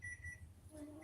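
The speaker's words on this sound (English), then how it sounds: "And why is that beeping?" An electronic device beeping indoors, with faint, thin steady tones that come and go over a low background hum, distant and quiet.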